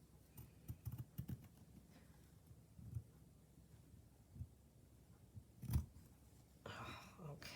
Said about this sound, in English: Oops, I'm cutting the heart.